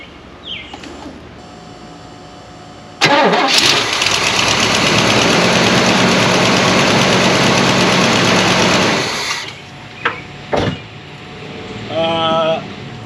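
A classic Oldsmobile engine, sitting unused for 15 years, cranks and catches, then runs loud and rough with a steady raspy roar for about six seconds before cutting out, followed by a few brief clanks and voices nearby.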